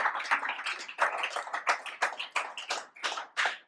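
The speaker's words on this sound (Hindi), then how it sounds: "तो भाई बजाओ ताली" A crowd claps steadily, a dense patter of many hands at moderate volume with no talking.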